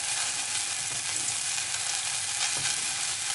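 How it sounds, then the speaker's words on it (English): Onions fry in melted butter over medium-high heat, giving a constant, close, even sizzle with a few soft stirring knocks, and no talking. "I'm just going to add the onions into it straight away"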